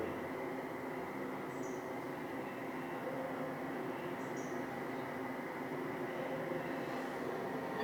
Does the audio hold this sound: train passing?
yes